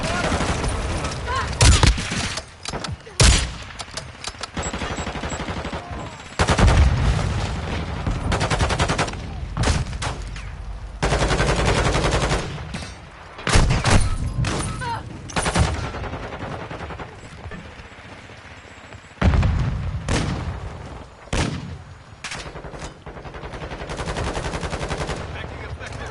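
Heavy gunfire in the video game Modern Warfare 2, loud repeated bursts of automatic weapons and single shots in irregular clusters, with brief lulls and faint voices between volleys.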